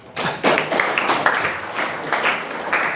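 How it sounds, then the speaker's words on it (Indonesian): A small group claps for Dela during a teacher-training session, irregular and fairly close handclaps in uneven bursts, with some brief chatter mixed in over about three seconds. "tepuk tangan Dela"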